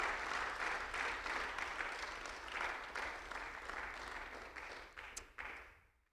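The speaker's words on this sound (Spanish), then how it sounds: "¿Cuántos damos un aplauso al Señor por ese amor tan grande?" A church congregation breaks into steady, full applause that carries on for several seconds before tapering off into silence, heard from within the room.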